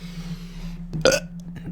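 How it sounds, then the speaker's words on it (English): A single short burp, fairly quiet and close, comes through in a brief low rasp after a moment of faint background hum. "I was hoping that burp would be louder"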